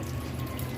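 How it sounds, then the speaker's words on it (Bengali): Hot water is poured off from a pot in a steady, continuous rushing stream, close and fairly loud, with no voices. "সমস্ত গরম পানি ফেলে দিব"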